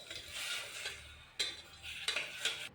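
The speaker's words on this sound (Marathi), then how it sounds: "कुकर तापायला ठेवून याच्यामध्ये तेल टाकूया, जिरं टाकूया आणि धुवून घेतलेला तांदूळ टाकूया." Cumin seeds and washed rice sizzling in hot oil in a pressure cooker, a soft steady crackling hiss with a few sharp clinks of a utensil against the metal pot, close and fairly quiet.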